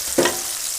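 Fish frying in a pan and getting stirred, a short scrape-and-sizzle burst near the start that fades back into a steady low hiss of hot oil.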